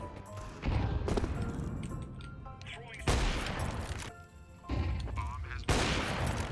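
Wall-bang gunfire in Counter-Strike 2 cracks out in several sharp bursts spread over a few seconds, each loud shot ringing out against quieter in-game ambience.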